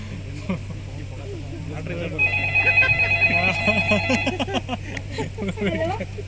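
A telephone rings with a repeating electronic tone partway through a staged mine-area safety skit, heard under excited voices and a steady low machine hum.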